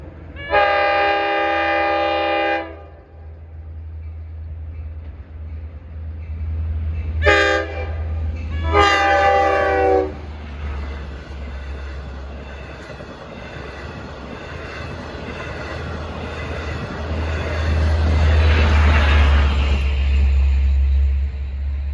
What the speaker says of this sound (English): That concludes a great afternoon and evening of horns and Montauk Branch diesels